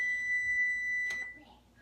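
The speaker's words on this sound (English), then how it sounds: "So my timer has gone off again." A kitchen timer beeps while strawberry muffins bake, a single sustained electronic tone that cuts off, followed by a brief clatter and faint room noise.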